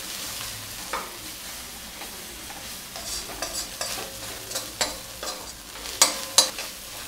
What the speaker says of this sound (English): So let this just fry well, and this raw flavor has to go away.